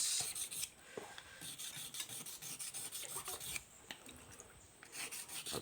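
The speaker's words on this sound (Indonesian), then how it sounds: "Kita gosok sambil memutar lensanya, gosok" An eyeglass lens edge is ground on a sharpening stone while the lens is turned, giving a soft, close, steady gritty rasping with rhythmic strokes.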